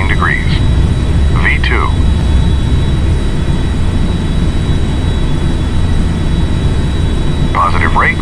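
Steady, loud jet airliner engine roar during a takeoff in a GTA flight simulator, a constant broadband rumble held throughout, with a brief spoken callout over it.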